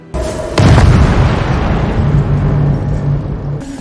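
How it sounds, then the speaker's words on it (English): A fantasy-drama explosion erupts as mithril is bonded with lesser objects. A sharp deep boom is followed by a sustained rumbling roar that fades, with no voices. "Yet while trying to bond the mithril with the lesser objects, there is an explosion."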